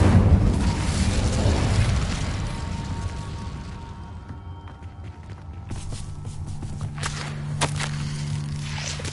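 A fire spell cast in Hogwarts Legacy sends up a loud, rushing burst that swells over the first couple of seconds and fades, followed by scattered crackles, thuds and footstep-like game noises.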